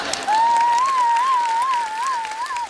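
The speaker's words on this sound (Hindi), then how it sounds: "और आप क्या तालियां बजा रही हो?" A studio audience at a TV comedy show claps steadily, while a single wavering high tone holds above the applause for most of its length.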